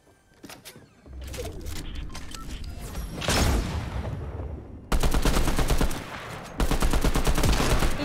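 Rapid bursts of video game gunfire rattle repeatedly, growing denser and louder into sustained automatic fire, with a sharp blast midway and brief pauses between volleys.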